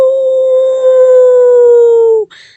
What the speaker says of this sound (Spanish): El lobo.